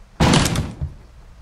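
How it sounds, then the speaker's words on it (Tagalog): A door smashed in as a horror story sound effect: one loud, splintering crash lasting about half a second, then a smaller thud and a fading rattle, with no voices. "Winasak no ng pinto"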